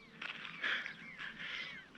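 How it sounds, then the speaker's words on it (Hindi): In a quiet Spiti Valley village in Himachal, a lone bird calls far off, a few faint, thin chirps and warbles rising and falling over near silence. "और यहाँ दूर चिड़िया की आवाज़ आ रही है।"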